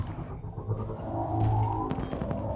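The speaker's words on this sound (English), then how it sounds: "Just showing him some fireworks for a moment." Fireworks bursting in the space game Elite: Dangerous, a dense rumbling of low booms with crackling sharp pops scattered through, steady and fairly loud throughout.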